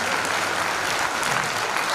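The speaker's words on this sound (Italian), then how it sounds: "Un applauso al maestro Massimo Scalisci." Steady, close, full applause from a theater audience for maestro Massimo Scalisci at a live band concert, continuous throughout with no voices over it.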